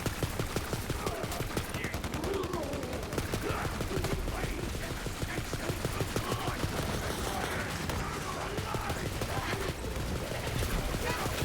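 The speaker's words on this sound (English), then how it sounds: "Just love all the bullets going everywhere." Dense, continuous gunfire in the video game Borderlands 3, rapid overlapping shots and bursts filling the whole stretch, loud and relentless with chatter partly buried beneath.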